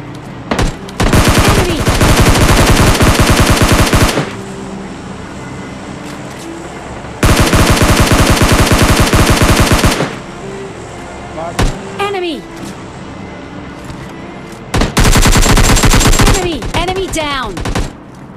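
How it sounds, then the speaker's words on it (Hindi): Sustained automatic gunfire in PUBG Lite, three loud dense bursts of rapid shots separated by quieter stretches with short tonal effects and footsteps-like game sounds. "उसके बाद मेरे को कुछ सामने से फायरिंग के साउंड आते हैं"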